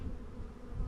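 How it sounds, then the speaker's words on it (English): Honeybee buzzing close to the microphone during a live hive inspection, a steady near, loud drone filling the whole second without any talk. "sorry about the bee in the camera"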